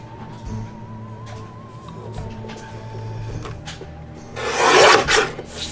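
Paper for a B6 traveler's notebook cover is cut with a large paper trimmer, heard as soft sliding and rubbing with a quiet hum, then a louder rasping swipe of the blade near the end.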